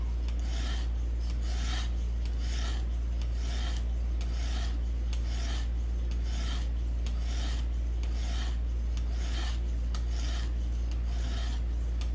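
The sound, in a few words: knife blade being sharpened on Xarilk Gen 2 sharpener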